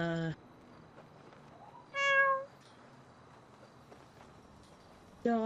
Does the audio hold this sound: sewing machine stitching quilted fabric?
no